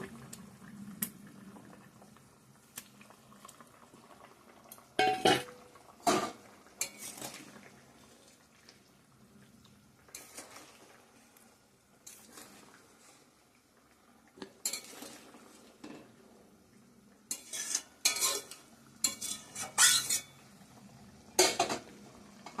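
Potato and pointed gourd curry with eggs simmering in a pot, a soft steady bubbling broken by a few sharp bursts of metal utensil clinks and scraping against the pot, fairly quiet overall.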